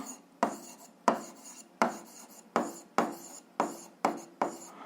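Pen or chalk writing out an equation for a 7th-grade algebra exercise, seven regular strokes each starting with a sharp tap and fading scrape, close and alone.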